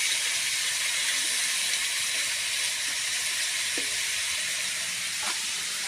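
A cooker hissing out steam in a steady, loud, continuous rush that stays even throughout, with faint clicks underneath.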